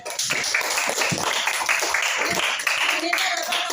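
Students in a classroom clap their hands in a quick, lively patter that fills the room, fairly close and even throughout.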